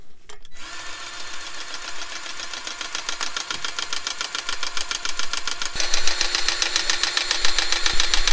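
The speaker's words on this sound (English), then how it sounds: "I've used a lot of different electric grease guns." An electric grease gun runs with a steady, rapidly pulsing motor whir from close by. The whir starts a moment in, continues without pause, and grows noticeably louder for the final couple of seconds.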